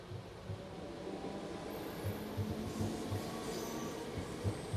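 An older passenger train passes on the line near West Kirby station, a steady, fairly faint rumble with rhythmic wheel clicks over rail joints and light squeal, heard from the lineside.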